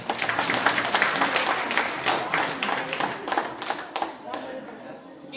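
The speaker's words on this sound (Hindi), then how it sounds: "इनका नाम राम प्यारी, जोरदार तालियां।" Loud, dense applause from a gathered village audience, steady for several seconds before thinning out, with a voice briefly heard among the claps.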